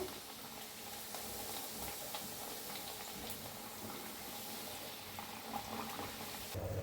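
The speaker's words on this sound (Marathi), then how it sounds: "फिरवून घेऊन दोन्ही साईडनं छान असं तळून घेते" Pumpkin pieces frying in hot oil give a steady, soft crackling sizzle that runs without a break, close by and fairly quiet, with no voices over it.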